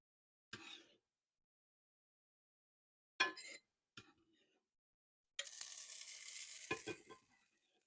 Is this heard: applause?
no